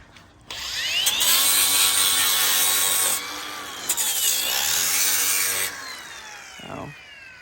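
A power tool smooths the edges of wooden custom car audio door panels with a loud whining grind in two long passes separated by a brief pause, then winds down to quiet.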